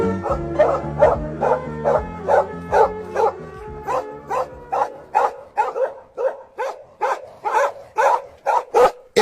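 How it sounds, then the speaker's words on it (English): A dog barks repeatedly in a steady rhythm, around twenty sharp, loud barks evenly spaced, close by and alone, with a low rumbling bed fading out after the first few seconds. "If someone doesn't shut Lassie up, I'm going to send him to a North Korean dog food factory"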